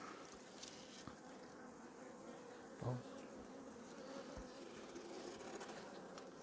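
Honey bees of the dark Ukrainian steppe breed buzzing around open hive frames, a steady faint drone from many insects with a brief closer pass midway.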